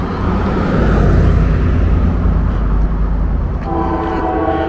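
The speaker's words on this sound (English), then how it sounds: "Yep, train's coming." A train rumbles past loudly and close in Coeburn, Virginia, with a steady low roar, and a horn blares near the end.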